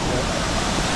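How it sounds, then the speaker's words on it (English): A waterfall in England roars as a steady, loud, dense rush of falling water, close and unbroken. "We made it to the first waterfall."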